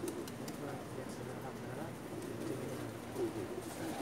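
Pakistani pigeons in a rooftop loft coo softly and continuously in low, rolling murmurs, fairly quiet against steady outdoor ambience, with faint voices in the background.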